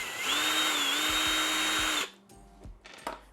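A power drill removes screws from the underside of a Meepo electric skateboard, whining steadily for about two seconds at close range, then stopping, followed by quiet handling clicks and taps.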